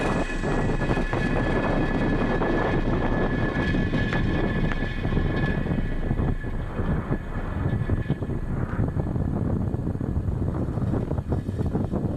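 A SpaceX Falcon 9 rocket roars with a continuous loud, broad rumble and crackle just after liftoff on the Space Development Agency Tranche 0 mission, steady throughout with no voices.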